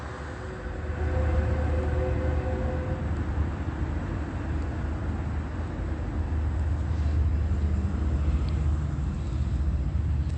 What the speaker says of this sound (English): I want you to hear that train activity